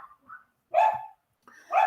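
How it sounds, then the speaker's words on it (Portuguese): Dogs barking in a few sharp bursts at moderate distance, with brief yips between them, no talk over them; heard in the background of a study group meeting call. "Os meus cachorros estão latindo."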